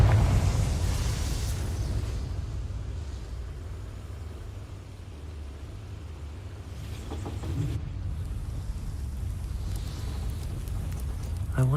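Confringo blasting curse firing in Hogwarts Legacy, giving a burst of explosive noise over a steady rumbling game ambience, with a couple of softer blasts later and little talk.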